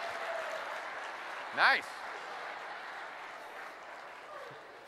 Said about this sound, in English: That round of applause is important